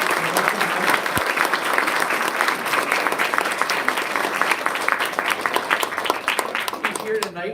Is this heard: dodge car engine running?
no